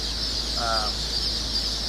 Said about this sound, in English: So that's our red stars. Absolutely wonderful birds.